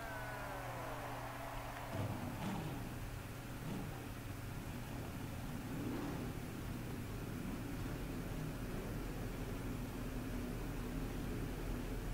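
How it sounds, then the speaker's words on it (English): Racing trucks roll at a 100-mph pace on a Canadian circuit in a truck racing video game, a steady, dense engine and road drone holding throughout with no talk over it. "And the trucks are rolling."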